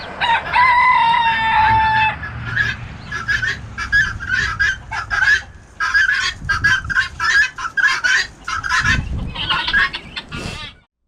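A flock of chickens fills the air with loud, close clucking and a long rooster crow at the start, followed by a steady run of sharp, repeated squawks and cackles.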